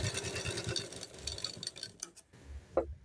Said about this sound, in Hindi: अब मैं अपने आर्म होल को स्टिच कर रही हूँ